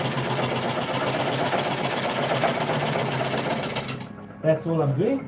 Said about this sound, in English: Let's see if the lathe stops.